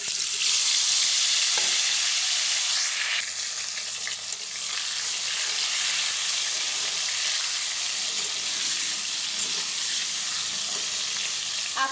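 Potatoes sizzle and crackle steadily in hot oil in a pan, a continuous bright frying hiss that stays loud and close, with no talking.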